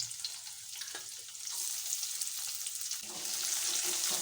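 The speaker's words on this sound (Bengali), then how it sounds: "এবার তেলে দিয়ে দেব পেঁয়াজ কুচি।" Chopped onion frying in hot oil in a kadai, a soft continuous sizzle that grows louder and brighter partway through, with faint stirring noises and no talk.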